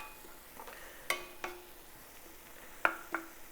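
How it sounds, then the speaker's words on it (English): Onions softening in a pan with garlic about to go in, a faint steady sizzle under scattered sharp clinks and scrapes of a utensil against the pan, close by, with no talking. "Cook the onions, add the garlic, okay."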